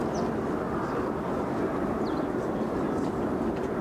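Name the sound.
heavy airliner landing or taking off at Brussels Airport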